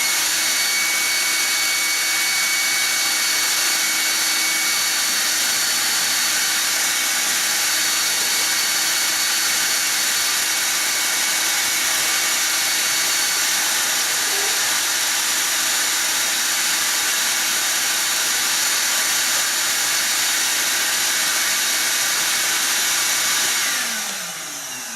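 A modified vacuum cleaner fitted with a larger diameter hose sucks up dust, roaring loud and constant from start to finish before its motor winds down at the very end.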